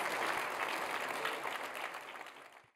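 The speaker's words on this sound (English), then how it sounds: "let's give her a round of applause" An audience at a Grady Fellow honor ceremony applauds Melita Easters, a full, even roar of many hands clapping up close that tapers slightly before cutting off.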